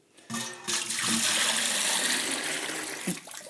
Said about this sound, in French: Je vais mettre un petit peu d'eau dans un seau.